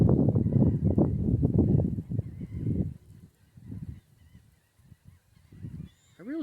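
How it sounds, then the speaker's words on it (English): Gulls by a river give loud, harsh honking calls in a rapid close burst, then scattered fainter cries with gaps between them. "The birdies, seagulls."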